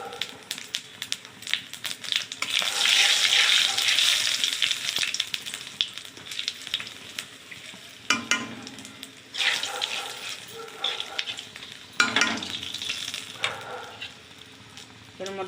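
Cumin, bay leaf and whole garam masala frying in oil left from frying fish in a kadai, a bright crackling sizzle that surges loudly early on, then settles into quieter hissing with occasional stirring clatters.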